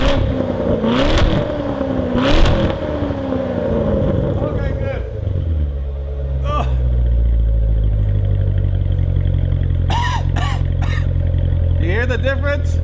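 A car with an AWE Touring Edition variable exhaust set to its loud mode revs up hard and then settles into a deep, rumbling drone, close and loud, with brief bursts of voices over it.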